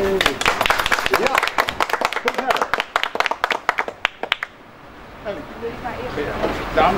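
A small group of people at the opening of a hobby shop claps in a quick, loud burst lasting several seconds, then the claps fade out. Voices and outdoor background noise follow.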